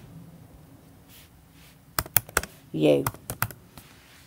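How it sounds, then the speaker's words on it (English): Computer keyboard typing, a short burst of quick, close clicky taps in an irregular rhythm, with a faint voice briefly heard. "I'm just going to type in I"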